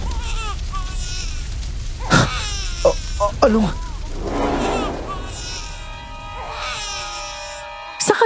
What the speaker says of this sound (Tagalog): Isang palahaw ng sanggol.